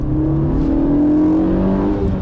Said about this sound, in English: Oh my God, I love this engine.